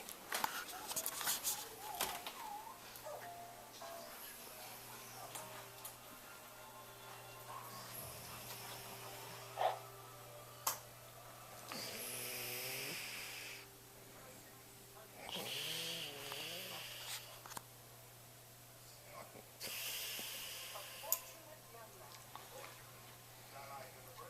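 A sleeping woman snores in slow, regular cycles of raspy breaths, faint and close in a quiet room, while someone talks softly between the snores.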